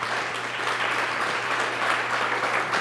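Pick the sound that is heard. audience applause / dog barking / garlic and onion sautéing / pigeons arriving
audience applause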